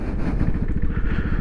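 A Vespa GTS scooter engine runs while warming up after an oil change, its close, throaty putter holding a steady, rapid pulse for a moment.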